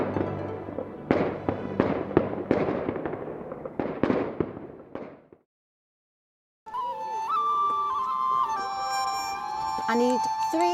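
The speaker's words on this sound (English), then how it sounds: "This is until the fireworks go off at night," Fireworks bursting at night, a run of sharp booming bangs echoing one after another, then a pause before a different scene of street bustle, whistles and distant voices.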